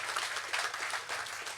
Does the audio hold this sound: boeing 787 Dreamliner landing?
no